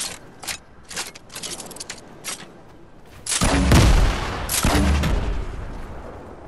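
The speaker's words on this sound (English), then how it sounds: "Alright, I need to reload, I need to reload" Weapon reloading in a video game: scattered mechanical clicks and clacks, then louder metallic rattling bursts with heavier impacts near the end.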